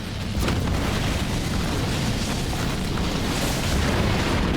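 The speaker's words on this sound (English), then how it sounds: "The mega turrets are pummeling the base from afar as" Mega turrets shelling a base in Halo Wars 2 make a steady, heavy roar of explosions and booms that blend into one loud, unbroken barrage, with no talking.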